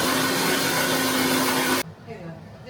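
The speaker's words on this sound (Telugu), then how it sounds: "దీన్ని నేను మిక్సీ వేసేస్తాను" A kitchen mixer grinder whirs loudly while blending cooked tomatoes, a steady high-pitched motor roar that stops abruptly near the end and gives way to quiet room sounds.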